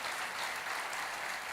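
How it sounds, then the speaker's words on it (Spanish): Church congregation applauding during a Christian sermon, a brief, steady wash of many hands clapping, fairly faint and heard alone. "Dale un aplauso a la palabra"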